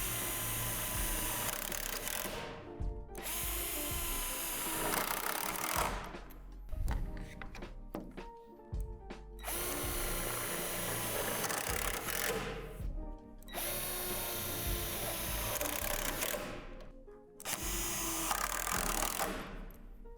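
Cordless drill on its highest torque setting driving screws into a portable basketball hoop frame, with repeated whirring bursts separated by short pauses and clunks, close and loud.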